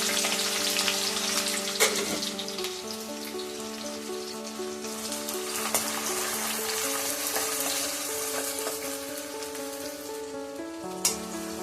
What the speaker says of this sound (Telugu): దాంట్లోకి కట్ చేసి పెట్టుకున్న 2 ఆనియన్, చిన్న సైజు ఉల్లిగడ్డలు వేసుకుంటున్నాను.